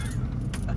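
A gigantic truck jolting over a speed bump, a loud low rumble of the engine and road with rattling, jangling cab contents across a short burst.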